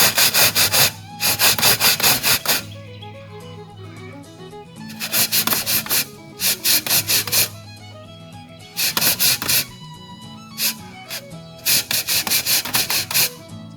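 A chimney brush scrubs the inside of a Baker's Choice wood stove's chimney pipe in loud, close bursts of rasping strokes. Short pauses separate the groups of quick back-and-forth scrapes.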